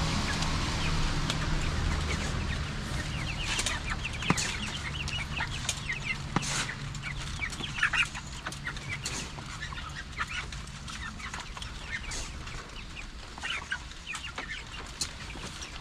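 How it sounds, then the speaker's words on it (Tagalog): Young chickens hatched in an incubator cluck and peep steadily in a backyard setting, with scattered brief calls rising over a constant low hum and some flutter and rustle throughout. "Kung matatandaan nyo yung mga sisiw na in-incubate natin noon mga katunying, ito na sila."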